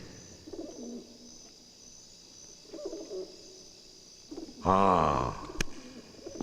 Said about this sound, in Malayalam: അതൊരു പ്രാവല്ലേ?